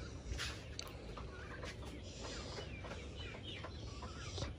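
Chickens cluck and crow at a market, with a few short calls rising over a steady, busy background of low noise.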